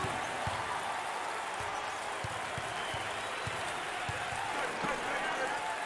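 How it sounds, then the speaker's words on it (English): At a Tulsa at Houston college basketball game, fans in an arena roar and applaud in a constant, dense wash of noise. Faint, regular thumps of a ball being dribbled sound underneath. "Number three has got the fans roaring and applauding."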